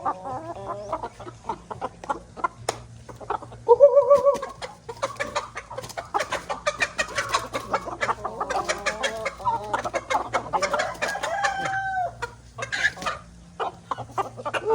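Chickens cluck and squawk while being caught to raise in a rice field, with agitated, overlapping calls and brief flapping that carry on steadily and close by, with no talking.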